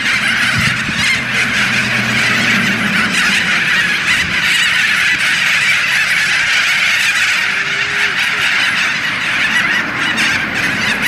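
Loud, repeated honking calls from large birds in Australia, continuing throughout over a steady outdoor morning background.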